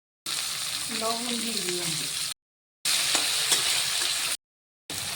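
Capsicum, ginger and green chili fry in a pan with a steady, close sizzle broken by two short gaps, while a voice talks over part of it.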